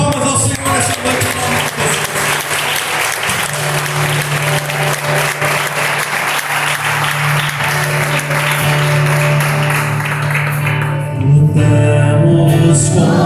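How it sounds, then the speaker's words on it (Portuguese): A church congregation at an evening communion service claps loudly and steadily with dense, sustained applause, while a held musical tone and accompaniment rise beneath it and swell toward the end. "salva de palmas ao Senhor nessa noite"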